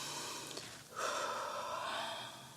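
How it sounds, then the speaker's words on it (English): A deep breath drawn in and let out during a tapping session, a slow airy inhale followed by a longer, steady exhale, close and alone without talk. "take a nice deep breath in and out."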